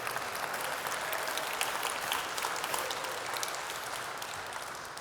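Audience at a tech conference talk applauds steadily throughout, a dense, even clapping that holds at a constant level from start to finish with no voices over it.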